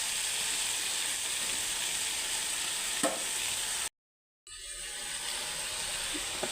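Chopped vegetables and peas for khichdi steam and sizzle softly in a pan, a steady close hiss with a brief stir partway through and a short silent break before the sizzling resumes.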